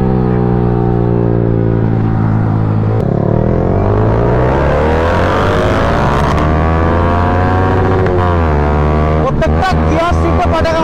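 A Kawasaki Z900 motorcycle revs hard through its gears on the road, its engine pitch climbing and dropping at each shift, with a burst of sharp backfire pops near the end, loud and close.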